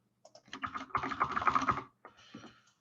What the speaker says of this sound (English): Let me type the code in here.